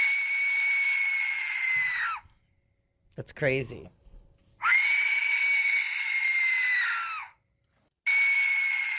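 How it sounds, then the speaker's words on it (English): An Aztec death whistle is blown in two long, piercing, shrieking blasts that hold steady and then drop off, with a brief burst of chatter between them in a studio setting. "What was the other one besides the Aztec death whistle?"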